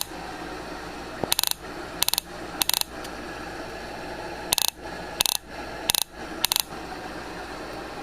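A 4-pin HEI distributor is spun by hand, producing sharp clustered metallic clicks and ratcheting bursts in irregular groups over a low steady hum, close and fairly loud.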